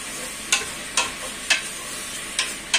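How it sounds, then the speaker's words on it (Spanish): Beef sears in a pot with a soft constant sizzle while a spoon stirs it, scraping the metal in five sharp strokes at uneven intervals, close up and without talk. "Empezamos a revolver, vamos a que esta carne se selle un poco."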